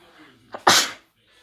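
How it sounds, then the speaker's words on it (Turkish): A single loud, close human sneeze, a short breathy intake followed by a sharp explosive burst that fades quickly into quiet. "Bu arada hapşırmışken"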